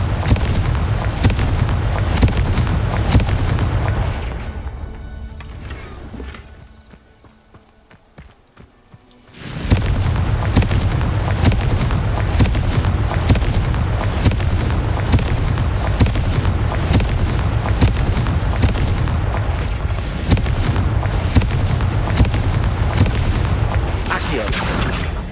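Confringo fire-spell explosions in Hogwarts Legacy make a loud, dense roar of booms and crackling combat noise, dropping to a quiet lull midway before erupting again, with speech mixed in.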